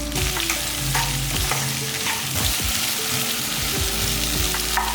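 Okra fries in oil with a pinch of salt and turmeric for sambar, a close, loud continuous sizzle and crackle with repeated clattering scrapes of a spatula against the pan and no speech.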